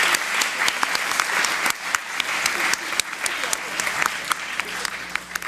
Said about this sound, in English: give a round of applause for Mr. Parvis